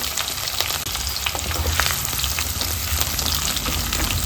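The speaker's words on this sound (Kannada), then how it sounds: "ಬೆಳ್ಳುಳ್ಳಿ ಚೆನ್ನಾಗಿ ಫ್ರೈ ಆದರೆ ತುಂಬ ಚೆನ್ನಾಗಾಗುತ್ತೆ" Crushed garlic, cumin and mustard seeds fry in hot oil for a mango curry, a steady dense sizzle with scattered pops and crackles throughout, close and fairly loud with no voices.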